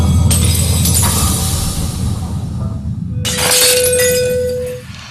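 A drinking glass shatters after being driven to resonance by a guitar's sound, with a bright, loud crash and tinkling fragments, then a second burst of breaking glass with a lingering ringing tone before it fades.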